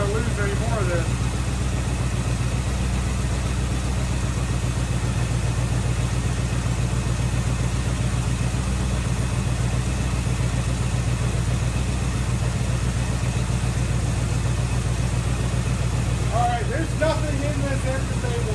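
A 1984 Camaro Berlinetta with straight pipes idling steadily, a loud, constant low rumble close by with no breaks, and a brief rising squeak near the end.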